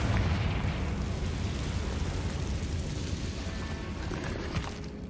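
A Confringo fire spell explodes in Hogwarts Legacy, a loud, sustained rumbling blast with dense low booming that spreads out and slowly fades over several seconds, no voices present.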